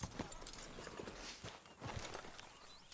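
Horse hooves clip-clopping in the video game Red Dead Redemption 2: a few soft, irregular hoof strikes at walking pace, faint and close against a low background hum.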